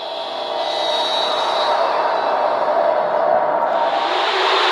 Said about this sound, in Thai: อันนี้คือเสียงลมครับ